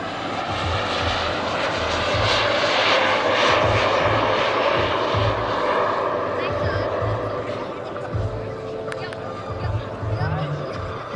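A very large radio-controlled Boeing 747-400 model airliner powered by four turbines flies overhead, its jet roar steady and loud throughout, with a low rhythmic rumble underneath and a slight fade near the end.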